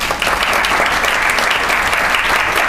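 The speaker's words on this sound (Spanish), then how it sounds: "Recibamos con un fuerte aplauso al señor Julián Arcayano" An audience in a lecture hall applauds loudly and steadily to welcome a speaker, a dense, even wash of clapping that holds from start to finish.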